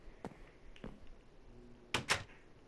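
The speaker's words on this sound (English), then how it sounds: "It sounded like a door opened though." A door opens in Minecraft, heard as a few faint wooden clunks followed by two louder, close knocks near the end.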